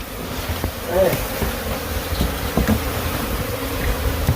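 Bees buzz in a dense, steady drone around a bee nest being cut apart and dismantled, with scattered clicks and handling noises nearby.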